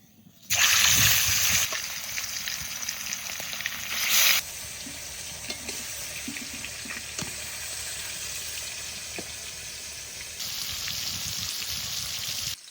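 Rohu fish pieces hit hot mustard oil and sizzle sharply at first, then settle into a steady fainter crackle and hiss, with a louder flare of frying near the end and windy outdoor background.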